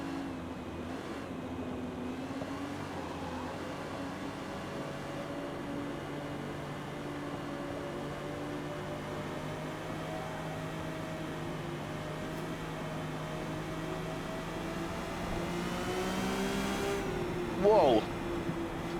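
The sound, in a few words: car engine revving in the video game Forza Motorsport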